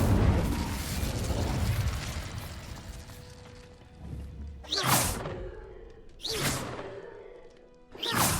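Incendio fire spells are cast in the video game Hogwarts Legacy: a long, loud roar, then three sharp, whooshing fiery bursts spaced a second or two apart, each flaring up and quickly fading.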